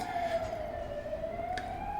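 Emergency vehicle siren wailing at a distance, a steady gliding tone sweeping slowly up and down over a dull background rumble, with no talk.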